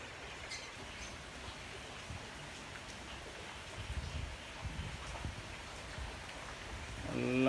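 Heavy rain in Pattalam, a dense, even hiss of falling water heard steadily throughout, fairly faint, with a voice beginning briefly at the very end.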